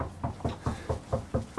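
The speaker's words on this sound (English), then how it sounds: "Somebody's knocking at the laundry chute." Knocking on a laundry chute inside a Wildwood Lodge RV trailer: a quick series of about seven light, hollow raps in an even rhythm, close by and fairly soft, with no talking.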